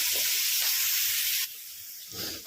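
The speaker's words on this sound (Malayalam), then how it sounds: "സവാള നന്നായിട്ടൊന്ന് വഴണ്ട് വരാൻ അതിലേക്ക് കുറച്ച് ഉപ്പ് ഇതൊന്ന് വഴറ്റിയെടുക്കാം" Sliced onions with a pinch of salt sauté in a hot pan for egg biryani, giving a bright continuous sizzle with a soft stir or two and a brief change in the hiss partway through.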